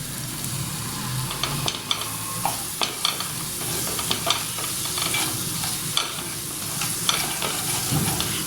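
Chopped capsicum sizzles in hot masala for a mushroom pepper fry, with steady frying crackle and repeated scraping taps of a spoon stirring the pan, close and continuous without speech.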